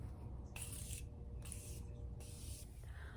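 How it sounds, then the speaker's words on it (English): Morphe Continuous Setting Spray mists onto a face in three separate short bursts, each a soft airy hiss, close and fairly quiet, separated by brief pauses. "finishing touch, Morphe Continuous Setting Spray."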